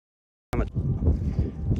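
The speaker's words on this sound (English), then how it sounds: "I'm gonna dive back down into the bowl because it's getting windy again." Wind blows outdoors and buffets the microphone after a short silence, a rough low rumble with gusty swells.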